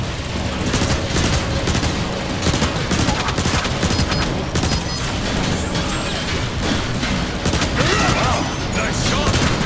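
Dense, continuous gunfire from Transformers: War for Cybertron: rapid blasts and explosions pile up loud and close through the whole stretch, with voices calling out over the barrage.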